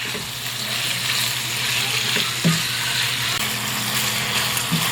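Chicken drumsticks fry in a pan until browned, giving a steady, moderately loud sizzle throughout with a few brief clinks and a faint low hum underneath.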